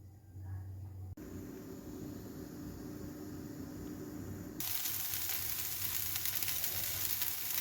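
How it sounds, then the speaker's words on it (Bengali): Pitha rice cakes fry in a pan with a continuous close sizzle. It turns brighter and louder partway through and carries on with no talking. "এই পিঠা আবার ভাজতেছি"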